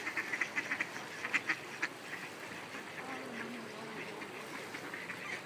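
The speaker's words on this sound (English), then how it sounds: "There's a lot of ducks." A flock of ducks quacks in a rapid run of calls, close and fairly loud at first, then settling into softer, scattered quacks amid light outdoor ambience while a child feeds them.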